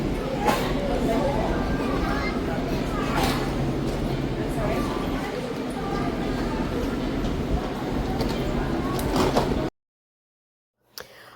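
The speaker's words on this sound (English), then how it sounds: "we are finally on the train" Inside a moving Brightline train carriage in Florida, a steady rumble and rattle with voices talking nearby, a brief thump, then it cuts to near silence.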